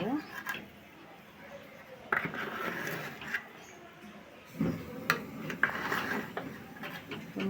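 Beef biryani being stirred in a pot, with soft scraping and clicking of a spoon against the pot in scattered bursts, and a faint murmured voice in the background.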